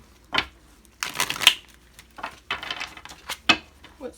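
Tarot cards are shuffled in several quick riffling bursts with pauses between, close but fairly quiet, with no voices.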